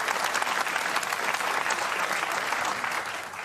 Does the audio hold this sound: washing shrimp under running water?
no